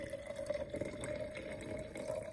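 Moscato wine poured from a bottle into another container, a soft steady trickle with a faint gurgling tone, quiet and close with no talk.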